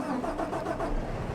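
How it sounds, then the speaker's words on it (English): A tractor engine in the Farming Simulator 25 video game turns over and settles into a steady mid-pitched rumble, close and moderately loud, with no talk. "We're going to grab our handy dandy tractor."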